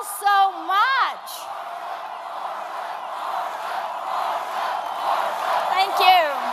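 A large rally crowd in a packed venue cheers and roars in a sustained, swelling wave, with loud whoops and whistles rising near the end, and a voice speaking briefly at the start.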